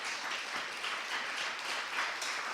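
A church audience claps in a dense, steady round of applause from many hands, sustained and fairly close throughout, with no voices heard over it.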